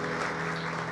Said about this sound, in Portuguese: Uma salva de palmas para os nossos visitantes.